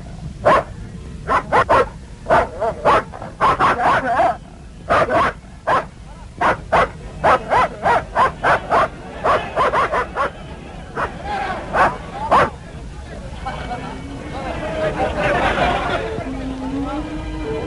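A Sharplaninec shepherd dog barks repeatedly in quick bursts, loud and close, being tested for courage, then the barking gives way to whimpering yips amid a murmur of background voices.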